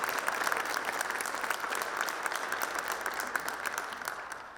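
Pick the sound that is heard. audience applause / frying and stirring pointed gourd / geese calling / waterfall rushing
audience applause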